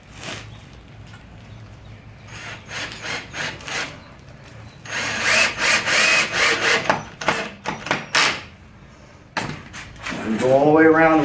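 A power drill drives 3-inch star-drive screws into the wood of a raised garden bed, with loud bursts of whirring and grinding close by, separated by quieter gaps and brief talk.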